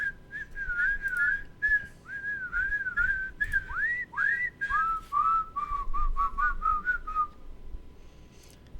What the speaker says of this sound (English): There's the repetition of the whistle.